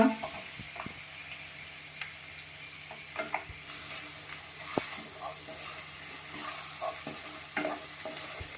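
Onion hits hot oil over ginger-garlic paste and green chilli, stirred with a spoon: scattered scrapes and taps, then a sudden louder sizzle that keeps up steadily, close and without speech.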